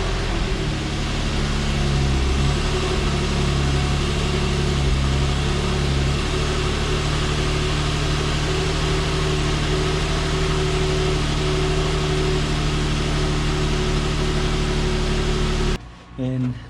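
A car engine idles steadily after a battery change, a loud continuous hum with tonal drones that shift slightly partway through before cutting out near the end.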